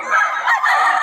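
A young rooster (stag) crows close and loud for about a second at the Bocaue market, giving one strained, raspy call.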